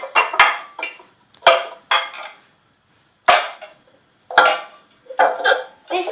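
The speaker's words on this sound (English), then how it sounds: "So let me get the bowl out." A small mixing bowl taken out and handled in a home kitchen while making fridge cake, several sharp knocks and clatters of crockery coming in short bursts, close and fairly loud, with no talk over them.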